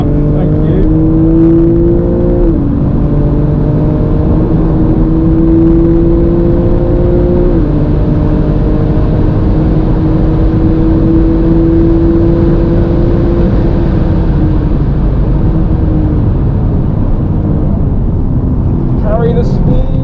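A Porsche 997 Carrera GTS is driven hard on a track, its engine revving and climbing through gears in loud rising sweeps with brief drops at shifts, while a person speaks over the engine noise.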